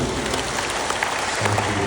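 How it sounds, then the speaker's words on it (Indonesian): Audience applause at a professorial inauguration ceremony at UIN Makassar, a steady wash of clapping that fills the short moment at moderate loudness, with no speech over it. "Tepuk tangan dulu semua"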